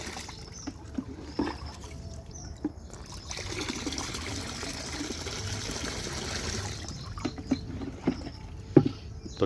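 A liquid solution pours through a filter into a tank with a steady trickling splash, moderately close, broken by a few small knocks and clunks.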